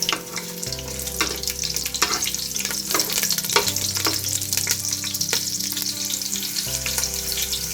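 Green chilies sizzle loudly in a pot for biryani, a dense crackling fry with repeated scraping and clattering strokes of a stirring utensil, steady from start to finish without speech.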